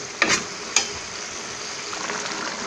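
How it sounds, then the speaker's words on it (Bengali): Mutton fries in a pan for biryani with a steady, soft sizzle. Two sharp utensil clinks come near the start, then the frying continues alone. "মাংসটা আমি কষিয়ে করে নিই"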